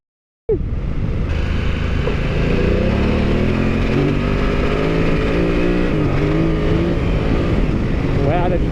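A BMW F900GS motorcycle on an enduro ride revs hard right up close, its loud engine climbing and falling in pitch through a steady throttle run, with riders talking over it.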